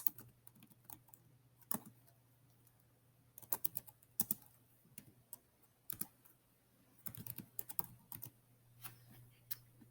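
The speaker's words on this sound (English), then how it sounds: "I know that I can now type straight into the box" Bursts of computer keyboard typing come in irregular clusters of quick, close clicks over a faint steady hum, with no talking.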